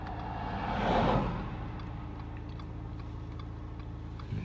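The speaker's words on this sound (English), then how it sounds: "I'll have to dim the lights for a second as this car passes." A car passing at night near a field, swelling to a brief peak and fading away, heard alone in quiet rural darkness.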